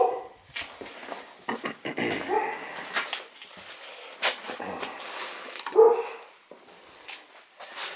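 A small dog yaps in sharp, scattered barks with a few whimpers, fairly close in a quiet room, the bursts irregular across the stretch.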